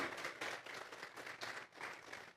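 A church congregation claps together in praise, a soft, distant wash of rhythmic applause in pulsing bursts, fairly faint, with no talk over it.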